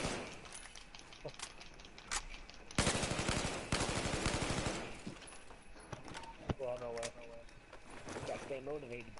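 Suppressed rapid gunfire in a zombie mode of the shooter Battlefield 4, sustained bursts in the middle of the clip with scattered single shots around them, and people talking over it.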